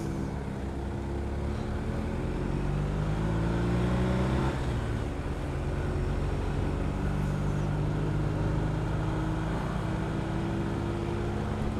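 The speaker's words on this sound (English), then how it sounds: "Couple of cars coming, right?" Several cars approach and pass on a narrow UK-to-Romania route, a steady loud engine and tyre rumble building and fading, close by throughout with no talk.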